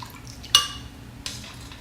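Contents are tipped from one vessel into a large pot while making shredded beef enchiladas: a sharp clattering thump, then a second softer knock, over a low kitchen hum.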